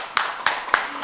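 Three crisp hand claps spaced roughly a third of a second apart, close and fairly soft, in an indoor chat setting with no voices over them.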